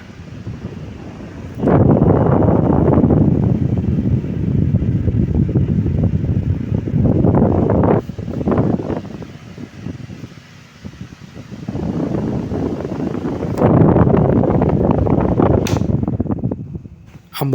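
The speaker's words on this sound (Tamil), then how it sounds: "50 ரூபா ஃபேன் எவ்வளோ நல்லா வேலை செய்து பாருங்கள்." A scrap fan restored to run as a 12 V solar fan whooshes steadily in broadband bursts of airflow, loud and close, swelling and dropping a few times as it runs, with no talk over it.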